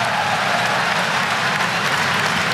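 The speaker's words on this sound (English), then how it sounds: "gets a nice hand from this crowd" A crowd at an NC State men's college basketball game against Maryland Eastern Shore applauds steadily as a player checks in for his debut, a dense, even wash of clapping filling the arena throughout.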